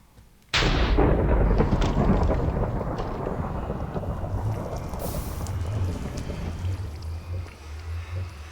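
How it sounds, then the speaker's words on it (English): Creeper explosion in Minecraft, heard while exploring the Twilight Forest: a sudden loud blast that starts abruptly, then a long rumbling, crackling decay that fades slowly over several seconds, with no voices. "that was Creeper Blast"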